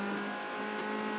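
A VW Golf 2WD rally car is racing on a gravel rally stage, heard on board: a loud, sustained engine roar at high revs fills the whole brief moment, steady and close.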